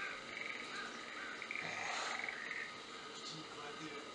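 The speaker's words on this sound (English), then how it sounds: "Listening to frogs and birds." Frogs croak outdoors in nature near a treehouse, forming a faint, continuous chorus with some insect-like chirping and a quiet voice murmuring underneath.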